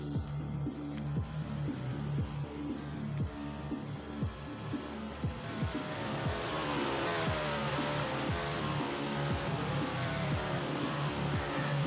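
A Mustang race car at the start of a race, its engine roaring loud and close with rapid rhythmic revving pulses that build into a sustained, broadband roar of several cars, with no talking.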